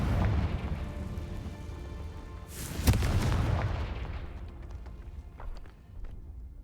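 A Confringo spell explosion in a video game lands as one sudden, loud boom partway through, then a rushing blast that slowly fades over a low background rumble.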